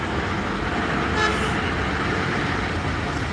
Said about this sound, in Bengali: দুইটা অংশে তিনটা অংশে জ্যাম থাকবেই গাড়ি ঘোড়ার জ্যাম